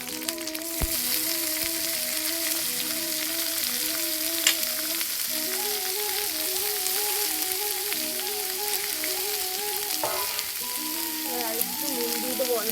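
Mustard greens and chili fry in hot oil in a home kitchen, a continuous crackling sizzle running steadily throughout, with a repeating tonal hum beneath and an occasional utensil clink.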